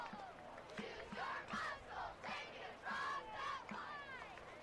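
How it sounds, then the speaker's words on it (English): A high school football stadium crowd at an Indiana game cheers and shouts in rising and falling waves, a distant roar of many voices with chant-like swells. "Did you hear that cheer, by the way?"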